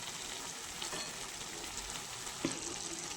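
Potatoes and shredded cabbage drop into a pan of fried spices, sizzling in a soft, steady hiss with a single light clink partway through.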